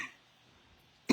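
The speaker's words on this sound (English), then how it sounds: "I think this is making me cough" A single short cough sounds near the end of a quiet stretch, close and sharp, apparently set off by a burning candle in a hayloft.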